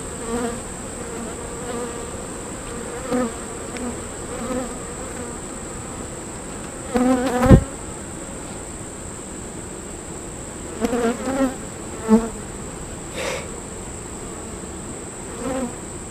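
Honeybees in an open hive give off a steady, close humming drone throughout, with a few brief knocks and clicks from the frames being handled.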